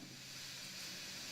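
A steam control valve in a video game releases a steady, faint hiss of escaping steam, a continuous airy rush with no voices.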